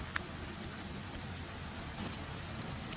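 Steady ambient rain falls throughout, a soft continuous hiss of drops on surfaces with no voices, even and unbroken at a low, calm level.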